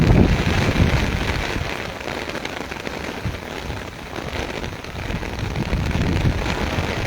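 Heavy downpour in Taunsa Sharif, a steady dense hiss of rain drumming on surfaces, loud and continuous throughout with no voices.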